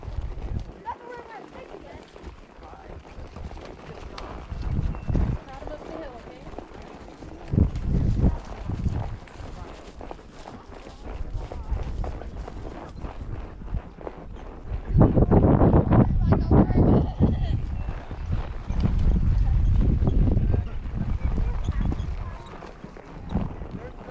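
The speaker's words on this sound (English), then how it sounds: "Nothing like a good trot to go ahead and get some of these green grass bugs out of these horses." Horses trot over grass at a southeast Montana ranch branding, their hooves thudding in uneven rhythm that grows louder and denser in the second half, while people talk nearby.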